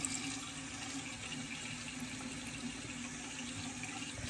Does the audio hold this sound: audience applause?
no